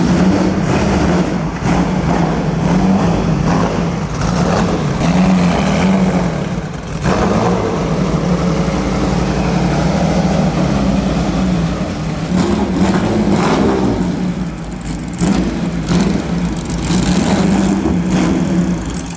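A Bugatti with a 12-cylinder engine runs at a concours d'elegance, a loud continuous engine drone with repeated revving surges and crowd noise around it.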